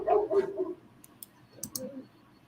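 A dog barks a few times out in a garden, short yips at a distance, mixed with faint clicks and quiet talking nearby.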